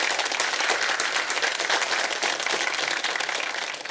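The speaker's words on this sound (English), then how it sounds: "let's give him a big round of applause for what he's doing" An audience at a talk claps for about four seconds, a dense, steady wash of applause from many hands, loud and fairly close, without cheering or speech.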